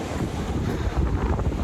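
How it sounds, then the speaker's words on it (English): Ocean waves and wind at the jagged Glasshouse Rocks in NSW, a steady broad wash of surf with gusty wind buffeting the microphone, loud and continuous with no voices. "There is going to be a little bit of noise just because I am by the ocean"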